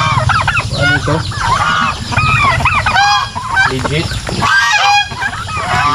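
Farm turkeys call loudly and repeatedly in rapid, warbling bursts at close range, with a person talking briefly among them.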